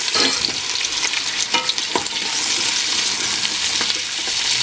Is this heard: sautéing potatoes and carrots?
yes